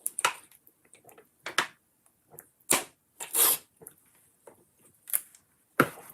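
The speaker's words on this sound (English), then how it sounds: "That was the sound of me drinking water." Someone sipping water during a break: a string of soft, close gulps, swallows and wet mouth clicks with little pauses between them, quiet and without speech.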